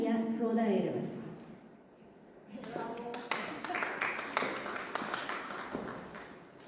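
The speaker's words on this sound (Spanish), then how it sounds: "Despedimos con un caluroso aplauso a Fátima Verónica Lazarte Suárez" Applause breaks out after a moment of speech at a seminar, a steady patter of clapping hands from a moderate-sized audience, fairly close.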